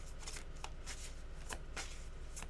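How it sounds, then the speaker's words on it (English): Steady, dense riffling of tarot cards being shuffled, with repeated crisp bursts as the deck is split and bridged, close up and continuous. "Let's shuffle until we can just get 1 card."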